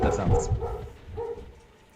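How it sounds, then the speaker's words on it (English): A dog gives a couple of quick barks and yips that sound muffled and fairly distant, coming through a broadcast-processed room sound and fading away toward the end. "Did you hear my dog just now?"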